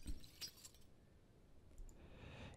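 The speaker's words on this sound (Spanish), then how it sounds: "Quitar los cristales rotos." Broken glass being cleared from a window in the survival video game Project Zomboid, heard as a few sharp clinks and shattering chinks early on, fading into quieter rustling.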